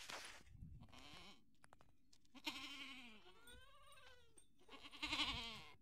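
Goats bleating on a goat farm, several wavering calls at close range spread across the stretch, with quiet pauses between them.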